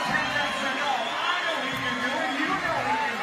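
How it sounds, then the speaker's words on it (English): Spectators at a CrossFit-style jump finish race call out and cheer, a lively crowd murmur with scattered shouts and whoops rising over a continuous background hubbub. "Crowd starting to get a little bit vocal now."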